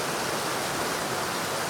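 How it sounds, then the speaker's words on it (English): Devil's River Falls, a waterfall on private property, gives a loud, steady broadband roar of falling water, close and unbroken, with no voices. "And this is Devil's River Falls, which is actually on private property."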